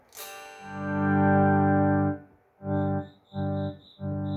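An electric guitar with a high-output pickup plays a clean tone on the split rear pickup through a Boss FV-500H volume pedal: one long sustained chord, then three shorter swelled strums with a faint high whine between them.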